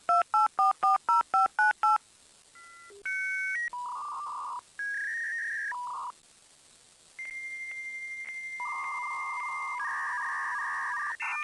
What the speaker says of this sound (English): the sound that an analog modem makes as it's negotiating and establishing a connection sounds something like this